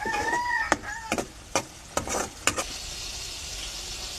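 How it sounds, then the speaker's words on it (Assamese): Dried fish frying in spices in a pan, a continuous hiss of sizzling oil punctuated by five or six sharp spatula scrapes and taps while stirring, close by, with no speech. "শুকান মাছখিনি দি আৰু অলপ ভাজি ল'ম।"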